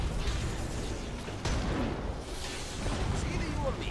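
Gunfire and explosive booms in the Iron Brigade video game, sustained dense rumbling bursts with a few sharp onsets, loud and continuous throughout.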